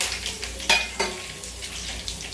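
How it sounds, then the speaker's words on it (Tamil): Curry leaves dropped into hot sesame oil with popping mustard seeds, a loud burst of sizzling and crackling with sharp spits, close up, while making a spicy mango pickle. "இப்போ நம்ம கருவேப்பிலை போட்டுக்கலாம்."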